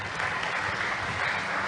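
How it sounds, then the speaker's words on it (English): Audience applause at a school English debate between AN-NUR and CSJO, a continuous dense crowd clapping heard throughout, steady and moderately loud with no pauses. "give them a round of applause."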